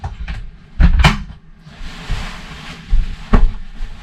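Emergency escape window in a 2019 Coachmen Catalina 323BHDSCK travel trailer being pulled open, with a couple of sharp clunks and rattles from the latch and frame up close, followed by a softer thump a few seconds later.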